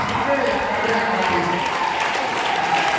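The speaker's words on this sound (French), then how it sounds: "Acclamez le maman, acclamez le papa." A church congregation applauding during a sermon, sustained dense clapping that fills the space, with a voice speaking over it.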